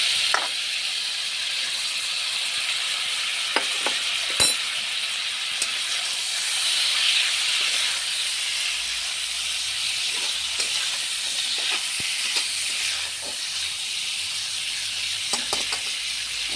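Fish slipped into a hot pan of spiced oil for a Bengali aar fish jhal fries with a steady bright sizzle and hiss, dotted with small pops and crackles throughout.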